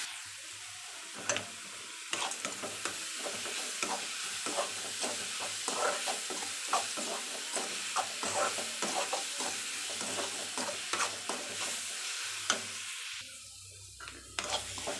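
Amla rice mixture with salt sautéing in a pan, a continuous soft sizzle with frequent ladle scrapes and clinks against the metal, steady and close.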